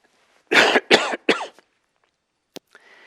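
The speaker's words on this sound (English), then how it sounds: "Excuse me for a minute while I cough" Three harsh coughs in quick succession, close and loud, followed by silence and a couple of small clicks.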